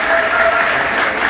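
Men in a church congregation clap together in praise, giving a thick, continuous burst of close applause that lasts barely over a second. A faint steady tone runs underneath.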